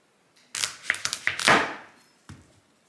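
A knife chops through a hard, raw butternut squash in a kitchen, a quick run of sharp knocking cuts clustered together, then a single softer thud after a pause.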